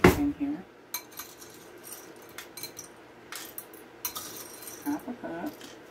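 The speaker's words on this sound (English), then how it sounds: "I have to use maybe another spoon to get these in here" Dried beans clink and rattle as they are spooned into a glass canning jar, a series of small irregular taps and chinks with a quiet room behind.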